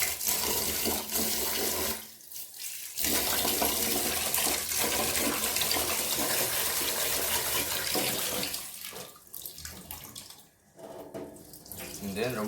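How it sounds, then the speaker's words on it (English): Tap water runs steadily into a sink while rice is washed for cooking, a close, continuous gush with two brief pauses where the flow stops and restarts. "For the next step, we're gonna clean this rice. Wash it until clean."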